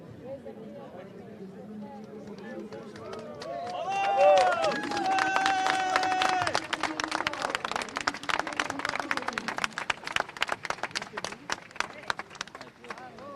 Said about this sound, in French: Des nouveaux applaudissements